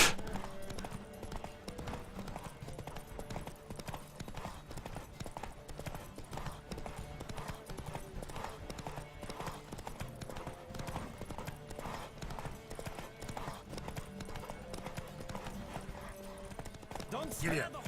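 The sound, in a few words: horse galloping in a race in video game The Witcher 3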